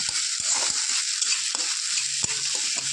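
Paneer curry with curd is stirred in a hot pan, a spoon scraping and clinking against the metal over a bright, constant sizzle, close up, with no voices.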